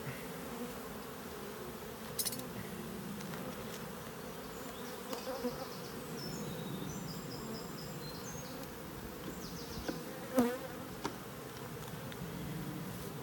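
Bees crawling over frames in an open hive while a nucleus colony is moved into a ten-frame hive: a steady, dense buzzing drone continues throughout, with a few brief louder buzzes close by and no talking.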